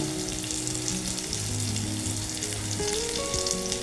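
Chana dal dry-roasting in a hot pan, a steady close sizzle and crackle running throughout with no speech over it, while faint steady tones hum in the background.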